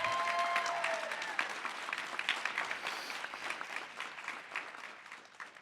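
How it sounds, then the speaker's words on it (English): Audience at a grant awards event applauding, a dense wash of clapping that slowly fades to scattered claps. "So let's give them a round of applause."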